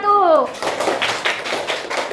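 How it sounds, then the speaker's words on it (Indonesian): A classroom of students applauding a group after its presentation, a busy patter of many hands clapping, with a voice briefly heard at the start. "Kasih tepuk tangan untuk kelompok 1."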